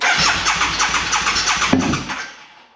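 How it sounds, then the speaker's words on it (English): An engine cranks rapidly with a fast chugging rhythm, catches briefly, then dies away into silence; loud and close. "Put this out, just crank it over."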